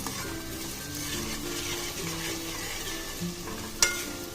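Chopped onion pieces frying in a pan for a mutton drumstick curry, a steady soft sizzle with faint stirring scrapes and one sharp clink near the end, no voices.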